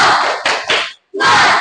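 Schoolchildren performing a tepuk semangat spirit clap, bursts of loud group clapping and shouting in a classroom, a short break of silence, then another loud burst of clapping and cheering.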